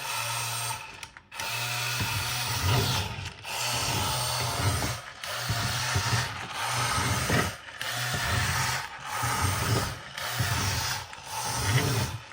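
A 1/16-scale Jada Back to the Future Time Machine DeLorean RC car's electric motor whirs loudly in short, repeated bursts with brief pauses between, rattling against a tabletop close by.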